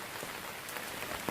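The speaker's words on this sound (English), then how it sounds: "you can see the rain coming down into my tree house" Rain pattering steadily on tarps stretched over a tree house, a dense, even hiss of drops with a few slightly louder taps, heard alone at close range.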